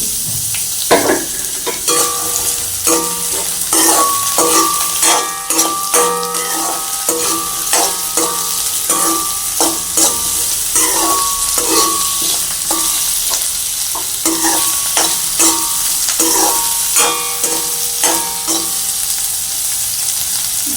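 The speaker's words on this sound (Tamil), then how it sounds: "எண்ணெய் வந்து நல்ல வடிவாக ஹீட் ஆகிட்டு இப்போ நான் வந்து இதுக்குள்ளே வெங்காயத்தை போடுறேன் வெங்காயத்தை போட்டு கொஞ்சம் வதக்குவோம்" Onions frying in hot oil in a pan, a steady loud sizzle with repeated scraping and clinking as a spoon stirs them throughout.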